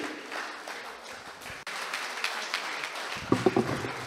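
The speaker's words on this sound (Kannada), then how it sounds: "ಜೋರಾದ ಚಪ್ಪಾಳೆಯೊಂದಿಗೆ ಮತ್ತೊಮ್ಮೆ ಶ್ರೀಯುತ Vivek Kulkarni retired IAS officer ಇವರಿಗೆ ಗೌರವವನ್ನು ಸಲ್ಲಿಸ್ತಾ ಇದ್ದೀವಿ." An audience at a book release event honours a retired IAS officer with a swell of applause that starts quietly, grows louder and stays sustained, with a voice breaking in near the end.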